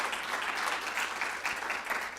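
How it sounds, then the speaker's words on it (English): A crowd at a youth mental health event claps steadily in a dense, even patter of hands, moderately loud and close, with no voices over it for about two seconds. "round of applause"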